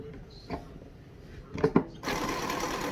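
A home sewing machine with a quarter-inch foot stitches quilt strips together, a few soft taps and clunks giving way to a steady, close, moderately loud whir of stitching.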